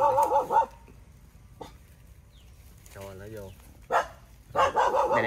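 A dog barks in a few loud, short bursts separated by quiet gaps, close by outdoors in the countryside while out checking snake traps, with people talking in between.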